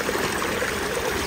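Water flows in a steady, continuous rush like a small stream or running channel, filling the clip with an even, moderately loud wash of sound.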